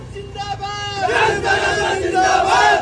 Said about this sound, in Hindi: जबरदस्त भीड़ यहाँ पर देखने को मिल रही है